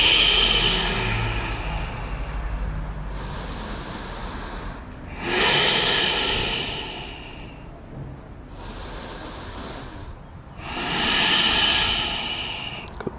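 Slow, deep breaths held through a front splits stretch in a mobility class, each long airy inhale and exhale rising and falling in clear cycles, close and steady with no talking.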